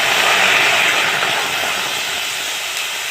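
Water poured onto jaggery in a hot wok for a coconut pitha filling gives a loud, steady steaming hiss that slowly fades over a few seconds.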